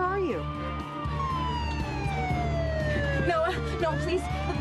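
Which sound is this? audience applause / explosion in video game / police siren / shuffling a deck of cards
police siren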